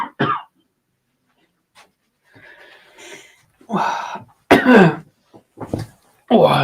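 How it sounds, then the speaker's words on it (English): A man coughs a few times in short, harsh bursts between quiet stretches, with a brief throat-clearing sound and some low background noise. "I've developed a little bit of a cough"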